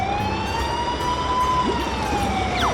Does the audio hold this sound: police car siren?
yes